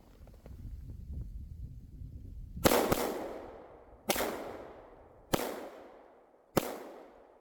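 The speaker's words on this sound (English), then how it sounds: "let's put some rounds down range." Four handgun shots from a Canik Elite Combat pistol ring out at steady intervals of about a second and a half, each a sharp loud crack followed by a decaying echo, with quiet rustling before the first shot.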